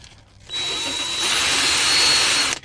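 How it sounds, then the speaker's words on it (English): Power drill whirring steadily as it spins a 3D-printed airsoft impact grenade part anti-clockwise, starting abruptly, holding an even high whine for about two seconds, then cutting off. "I put it in a drill and I run it anti-clockwise so that way it doesn't unscrew"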